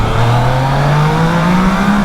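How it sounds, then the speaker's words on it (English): A Yamaha Niken GT three-wheeled motorcycle's exhaust drones loudly inside a tunnel, a steady rising engine note as it accelerates, with no talking. "Let's see if we can hear this exhaust."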